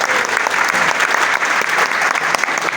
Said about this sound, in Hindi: तालियां तो बनती हैं